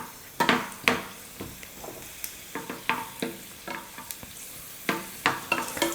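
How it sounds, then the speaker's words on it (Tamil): Cashews frying in hot ghee in a pan, a soft continuous sizzle broken by repeated sharp scrapes and clinks of a spoon stirring against the metal, close and fairly quiet. "நெய் நல்லா காஞ்சதுக்கப்புறம் முந்திரி கொஞ்சம் சேர்த்துக்கிறேன்"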